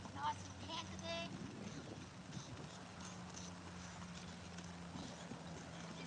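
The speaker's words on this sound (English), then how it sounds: "Did a nice canter there, no problem." A horse canters on a windy afternoon, soft rhythmic hoof clip-clops faint and distant beneath rushing wind noise, with a brief voice near the start.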